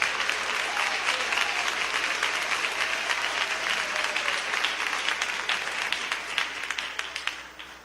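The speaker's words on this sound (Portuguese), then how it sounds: "podem glorificar a Deus com as palmas" A church congregation applauds together, a dense sustained clapping that stays loud and fills the room for the whole stretch, with a few voices faintly underneath.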